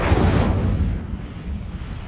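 An Incendio fire spell is cast in the Hogwarts Legacy video game: one loud, deep whooshing burst that fades quickly.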